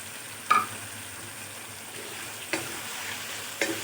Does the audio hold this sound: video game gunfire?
no